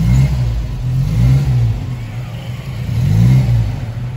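Toyota Kijang pickup engine running close by, with a low steady mid-pitched tone that swells in a few revs.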